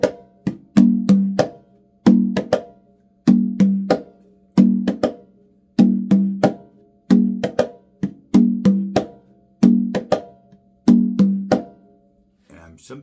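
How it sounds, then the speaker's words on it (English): An Afro-Cuban rhythm played on hand drums, a repeating pattern of crisp slaps and muted strokes that loops steadily for several bars. It is close and prominent, with no talking over it. "this rhythm is called Afro-Cuban"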